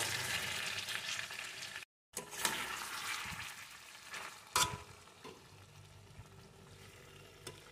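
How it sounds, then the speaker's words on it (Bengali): Duck egg patori in a wok, a steady soft frying hiss with occasional scraping stirs of a spatula, close and moderately quiet, with a brief cut of silence partway through. "এখন একটু একটু করে এইভাবে নেড়ে নেব"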